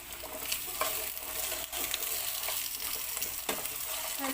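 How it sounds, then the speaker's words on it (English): Potato chunks sizzle steadily in a hot pan for a Filipino beef steak tagalog dish, with occasional stirring clatters and scrapes punctuating the continuous frying hiss. "So let's just saute for like 1 to 2 minutes."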